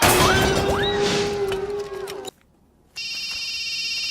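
A telephone rings with bright, repeating electronic tones that start after a brief silence, preceded by a loud crash and swelling music in a Telugu comedy film scene.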